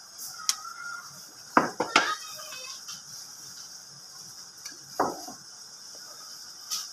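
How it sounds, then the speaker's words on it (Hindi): Knife work on a board while preparing vegetables for matar pulao: a few scattered, sharp clinks and taps in a quiet kitchen, with long gaps between them and no steady chopping rhythm. "तो अब इन चीज़ों को मैं कर लेती हूँ चॉप।"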